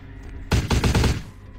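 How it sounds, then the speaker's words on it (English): A short burst of rapid gunfire in Vampire: The Masquerade – Bloodlines, several shots fired in quick succession at a box, loud and close, then stopping abruptly. "Keep shooting that box."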